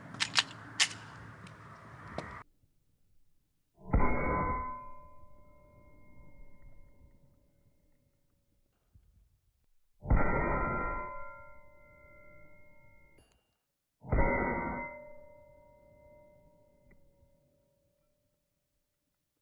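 Three separate loud, ringing metallic impacts of 9 millimeter rounds striking a steel target, each a sharp clang that decays slowly, spaced several seconds apart after an earlier burst of noise.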